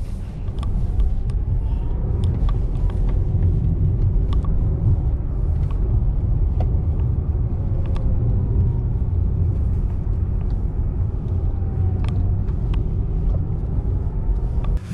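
Porsche Taycan electric car driving on roads in Monaco, heard from inside as a steady, quiet low rumble of tyres and road noise, continuous throughout with no voices.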